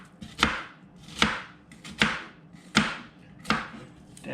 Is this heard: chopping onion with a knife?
yes